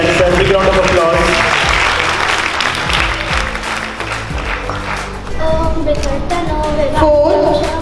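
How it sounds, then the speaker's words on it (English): Audience applause at a regional abacus competition, loud clapping that dips midway and swells again, with voices and a public-address tone mixed in. "Big round of applause."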